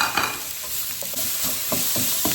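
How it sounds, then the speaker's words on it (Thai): Minced pork stir-fries in a hot wok with a constant bright sizzle, while a spatula scrapes and clacks against the pan in irregular strokes, close and fairly loud. "ผัดให้หอมใส่หมูไปเลยผนะคะ"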